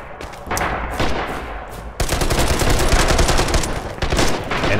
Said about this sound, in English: And every gunshot that you hear, even in the distance, is purely from people shooting.